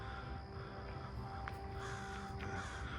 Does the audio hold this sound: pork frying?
no